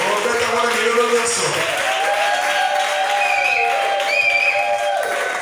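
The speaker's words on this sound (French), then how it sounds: "On acclame très fort l'Éternel." A church congregation applauding and cheering loudly, steady dense clapping with crowd voices throughout, while sustained tones like music or singing run over the top.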